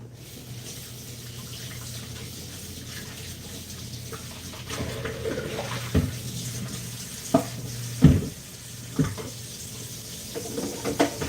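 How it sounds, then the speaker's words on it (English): Steady running tap water pours into a kitchen sink while hands are washed beneath it, a continuous close wash broken by a few louder splashes and knocks toward the end, with no talking. "I'm going to wash my hands"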